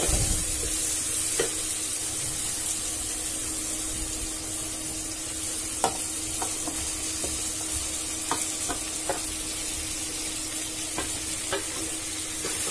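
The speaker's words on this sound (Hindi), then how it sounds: "अब इसे मसालों के साथ हम थोड़ा भून लेंगे बिल्कुल हमें हल्के हाथों से भुनना है" Fried brinjal and potato are gently stir-fried with spices, a continuous close sizzle broken by scattered sharp clicks and scrapes of a spatula against the pan.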